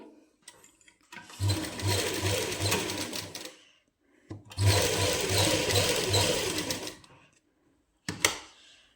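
A sewing machine stitches a seam along the neckline of a suit, running in two long bursts with a steady rapid rhythmic chatter, then a short final burst, with pauses in between.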